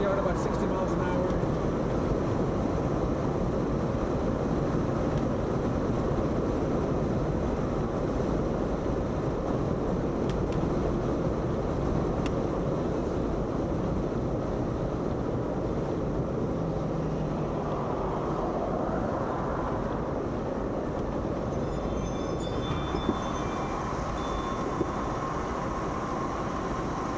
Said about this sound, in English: I can tell you there's a lot of wind noise. So here we are at about 60 miles an hour.